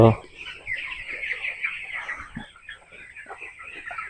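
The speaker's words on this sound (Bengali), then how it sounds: "ওই ফুকা উপর থেকে যেটা নিচে পড়ছে সঙ্গে সঙ্গে মুরগিগুলো ধরে খাচ্ছে" Farmyard chickens clucking and calling as they snatch termites falling from above, a close, busy stream of short clucks with brief louder bursts, alone without talk.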